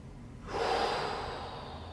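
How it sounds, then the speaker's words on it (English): A single close, audible inhalation during a breathing exercise in an online class, a breathy rush that swells quickly then trails off slowly, heard alone with no talking. "Breathe in again."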